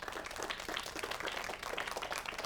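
A studio audience at an Indonesian religious talk show applauds, a dense, steady wash of many hands clapping at once for a few seconds with no voices over it.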